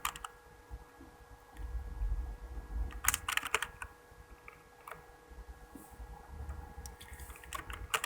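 Keyboard typing during a Photoshop CC 2021 banner design session, with scattered clicks and short bursts of keystrokes at moderate level over a low background hum, no voice.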